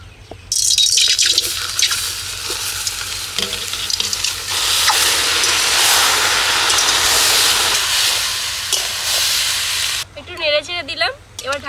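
Marinated prawns hitting a hot wok without extra oil in a village kitchen, a loud burst of hissing sizzle that swells and holds, then fades as voices talk near the end.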